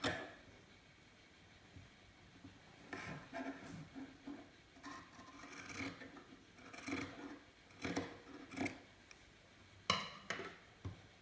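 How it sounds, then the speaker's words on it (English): Scissors cut through two layers of fabric in a series of sharp, crisp snips, spaced irregularly, close and quiet with short pauses between cuts. "Then snip from the bottom corner to the mark through both layers of fabric."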